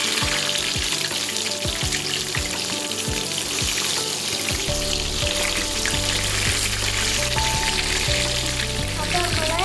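Egg chammanthi fries in a hot pan as it is flipped, a constant loud sizzle and crackle with a few soft scraping stirs, heard alone without speech.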